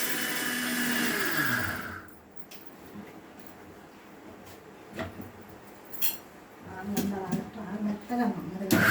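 A kitchen mixer grinder whirs loudly for about two seconds and then winds down, followed by clinks and knocks of the jar and utensils, with a voice talking in the background.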